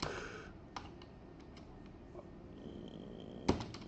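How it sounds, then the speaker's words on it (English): Sparse keystrokes tap on a computer keyboard, a handful of quiet clicks spread across a few seconds with one sharper press near the end, over faint room hum. "here I'm going to type"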